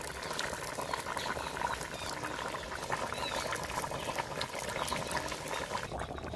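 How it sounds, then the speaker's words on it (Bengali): Thin magur fish curry bubbling steadily in a pot, a continuous close, even simmering hiss with soft popping that carries on throughout without a break. "ঝোল ফুটে গেছে বন্ধুরা"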